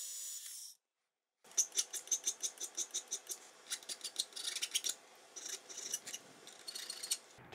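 Metal file scraping back and forth on a hardened linear rail, a rapid series of rhythmic rasping strokes, close and fairly loud after a brief silence, with no talk.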